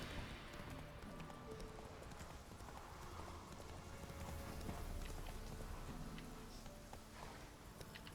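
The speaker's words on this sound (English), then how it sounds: "This is the ideal place to go with my horse." Roach the horse galloping in The Witcher 3, a quick steady clip-clop of hooves under faint ambient game sounds, fairly quiet throughout.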